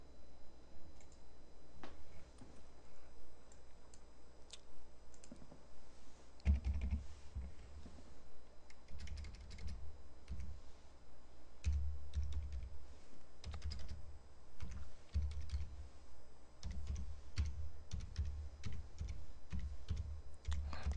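Slow, irregular hunt-and-peck typing on a computer keyboard, with scattered individual key clicks and short bursts spread across the stretch, fairly close and moderately loud with no talk over it.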